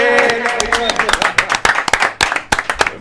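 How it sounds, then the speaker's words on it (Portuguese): Clapping from a small group in a podcast studio, sharp claps building and thinning over a few seconds, mixed with cheering and excited talk. "Agora é as palmas."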